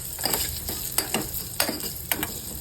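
Urad dal roasting in oil inside a pressure cooker, stirred in quick strokes: repeated gritty scrapes over a soft, steady sizzle, close up with no one talking.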